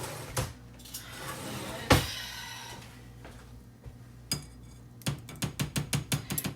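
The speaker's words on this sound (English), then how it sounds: "Now, I'm going to get a spoon real quick." Someone fetches a spoon in a kitchen, with a few scattered knocks and clunks followed by a quick run of light, rhythmic metallic clinks from cutlery and dishes.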